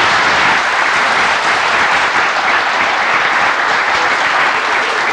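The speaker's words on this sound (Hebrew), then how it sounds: "מחיאות כפיים קודם כל לרחל." A studio audience at a television show featuring oriental dance applauds loudly and steadily throughout, a dense, even wash of clapping with no talk above it.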